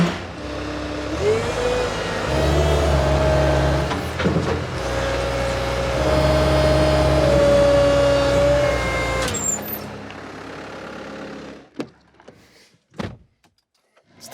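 A vehicle engine idles and runs steadily while a trailer is maneuvered into a tight parking spot, a low droning hum that cuts off abruptly near the end, leaving a few faint knocks and clicks in near silence.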